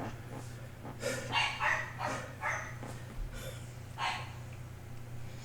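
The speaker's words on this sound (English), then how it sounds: "sorry about the dog barking" A dog barks several times in short irregular bursts, moderately close, over a steady low hum indoors.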